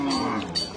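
A cow at a village cattle market gives one short, close moo lasting under a second, with faint market bustle behind it.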